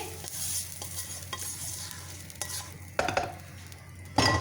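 Cooked pasta goes into a hot pan for chicken pasta on a home stove and is stirred, giving a soft steady sizzle with scraping utensil strokes and a few louder clinks near the end.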